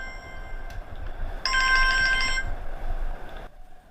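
A mobile phone ringtone plays, a bright electronic melody ringing steadily for a few seconds over a low background hum, with no talking.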